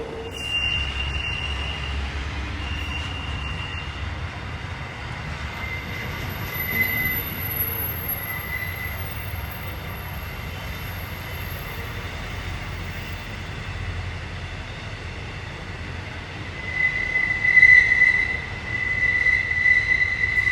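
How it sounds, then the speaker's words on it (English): A westbound intermodal freight train rolls through Mount Lofty Station hauled by three General Electric NR class diesel locomotives rumbling low, wheels squealing high and steady, and the din swelling louder toward the end. "A trio of General Electric NRs are in charge of today's train"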